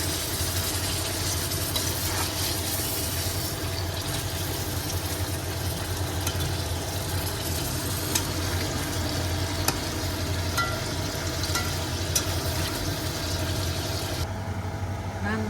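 Constant sizzling of onion frying in hot oil for plov, a dense steady crackle with occasional sharp pops throughout.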